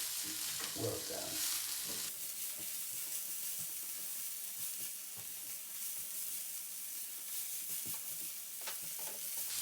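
Spring greens for an artichoke carbonara wilt down in a hot pan, making a soft, quiet sizzle with a brief burst of stirring clatter near the start.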